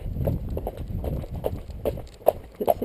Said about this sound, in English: So it's a very comfy trot.